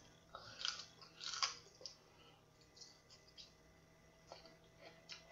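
Crisp close-up crunching of raw celery eaten with peanut butter, a few loud bites followed by softer, quieter chewing in a calm room.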